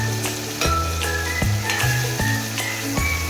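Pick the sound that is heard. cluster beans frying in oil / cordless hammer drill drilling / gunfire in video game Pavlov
cluster beans frying in oil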